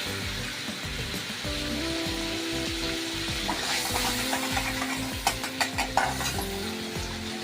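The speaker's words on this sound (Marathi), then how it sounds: "सर्वप्रथम कढईत तेल टाकते मी थोडं आणि बटर घालते" Oil and butter sizzle steadily in a kadhai at the start of a dhaba-style shahi paneer. The frying hiss is close and continuous, with stirring scrapes and a few sharp utensil clinks near the end.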